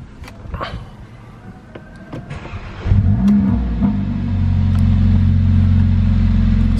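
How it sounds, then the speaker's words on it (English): A Mercedes A45 AMG engine idles, then revs up sharply into a loud, sustained roar, close by and steady for several seconds. "We'll have a bit of a rev of the engine to show you what that sounds like."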